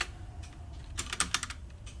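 A handful of computer keyboard keys pressed during game playtesting, a short cluster of crisp, close clicks after a quiet start.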